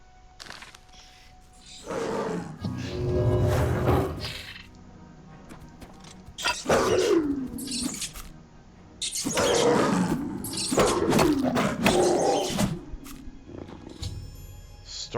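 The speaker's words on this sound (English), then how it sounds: "Starving mountain lion." A starving mountain lion in Oblivion Remastered lets out several loud, drawn-out growling roars in separate bursts, close and menacing, with brief quieter gaps between them.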